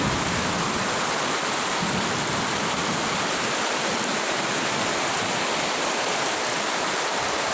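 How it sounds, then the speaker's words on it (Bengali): Heavy rain driven by strong wind in Bhola, a dense, steady broadband roar that stays loud and unbroken throughout with no voices. "খুব বাতাস আর বৃষ্টি"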